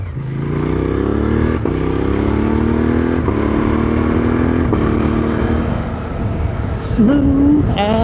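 A Suzuki V-Strom motorcycle rides along a gravel route, its engine droning loudly up close and climbing in pitch, with quick-shifter gear changes clicking through as brief dips between pulls, before a voice speaks near the end.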